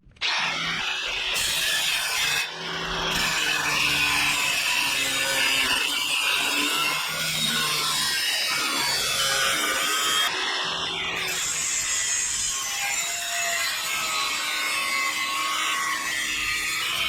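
An angle grinder cuts stainless steel sheet on a worktable, a loud, continuous harsh grinding rasp that runs nearly unbroken for the whole stretch, with only brief dips where the disc eases off.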